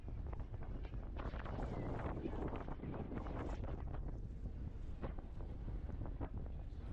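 Steady wind roars and buffets across a river ferry at night, a continuous broadband rush with boat engine and water noise underneath, no talking.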